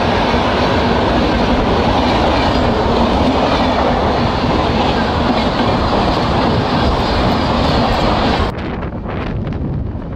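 The Dhauli Express runs on rails near Balasore, a loud, steady roar of wheels and rushing wind with faint clickety-clack that drops suddenly near the end as the sound muffles.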